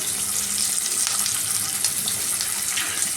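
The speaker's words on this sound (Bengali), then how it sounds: "ফ্রাই করে নিচ্ছি একটু। রসুন পেস্টটা দিয়ে দিলাম।" Garlic paste frying in a pan gives a steady, close, bright sizzle with a crackling hiss that carries on without a break, and no voices.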